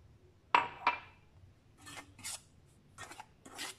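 A few short scraping strokes of a utensil stirring salt and flour in a bowl, dry and gritty, spaced irregularly in an otherwise quiet setting.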